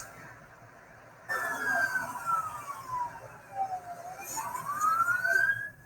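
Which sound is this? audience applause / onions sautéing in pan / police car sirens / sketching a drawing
police car sirens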